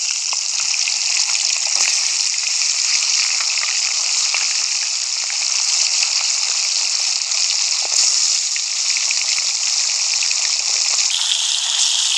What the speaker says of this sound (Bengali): এবার মাছ ভাজার জন্য আমি তেল দিয়ে দেবো।